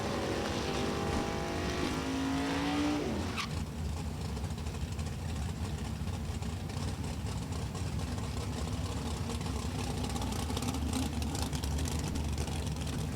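Drag racing at National Trail Raceway: an 04 Corvette with a 555 cubic inch big block Chevrolet beside a 94 Dakota pickup with 500 cubic inches, engines idling then roaring loudly and steadily for a long stretch.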